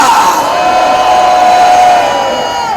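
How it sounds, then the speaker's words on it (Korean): Crowd at a Gwanghwamun political rally roars with sustained cheering and shouting, a loud continuous swell of voices with sharp whoops. "따가운 함성을 보내주시기 바랍니다."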